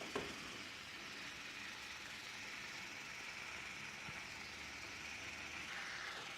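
Shrimp sizzling in a hot pan: a steady, even hiss of frying with a faint clink near the start, without pause.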